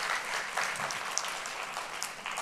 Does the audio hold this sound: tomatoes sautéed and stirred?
no